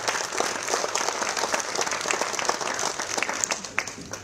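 A crowd at a cycling tour presentation evening claps steadily for the cycling federation president, a dense, even patter of many hands held at a constant level.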